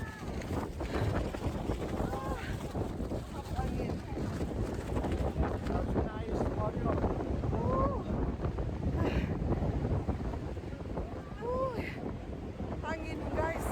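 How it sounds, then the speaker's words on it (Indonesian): Strong wind at the crater rim of Mount Bromo buffets the microphone in a constant loud roar, with voices talking faintly underneath throughout. "Angin guys, kuat."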